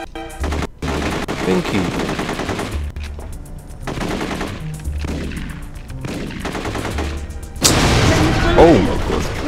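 Rapid automatic gunfire and single shots in the video game The Getaway, loud bursts repeating in clusters with a heavy boom near the end, while a player talks over the action.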